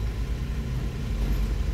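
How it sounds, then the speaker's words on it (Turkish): A car rumbles slowly past along a narrow, crowded street, with a low, close engine drone that stays steady for a moment and has no talk over it. "Bir araba silme zor geçiyor."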